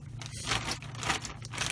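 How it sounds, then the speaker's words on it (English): A pair of scissors drops during a cross-stitch session and lands with a brief clattering scrape, followed by a few rattling knocks at close range. "There go my scissors."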